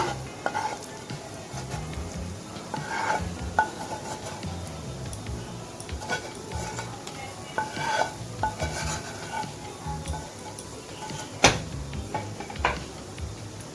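A spoon scrapes and knocks through a coconut naru mixture of coconut and milk in a pan, with soft sizzling beneath. The stirring strokes are irregular and close, with no talking.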